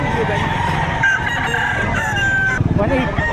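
A rooster crows loudly and close at a livestock auction market in Padre Garcia, Batangas, over steady crowd chatter and people talking nearby, with one long drawn-out crow running through the middle.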